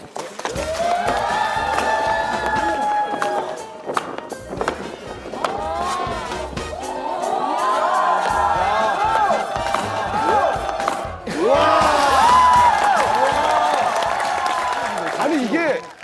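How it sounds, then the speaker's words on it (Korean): An audience on a Korean TV talent show claps and cheers in loud bursts, with a host's amplified voice talking over the crowd and energetic shouts rising and falling across several swells. "아름다운 동작 한번 다시 한 번 더 박수로 청해드려도 될까요?"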